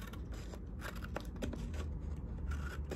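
Scissors snip through an eyebrow tattoo sticker sheet, with a few close, quiet cuts and rustles of the thin sheet and no talking.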